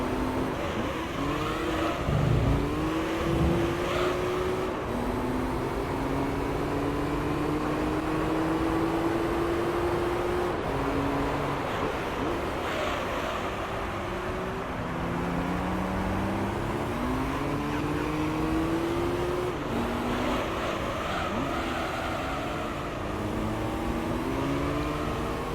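Race car engine in Gran Turismo 3 revving steadily through rising and falling gear sweeps, loud and continuous for the whole stretch, with no talking over it.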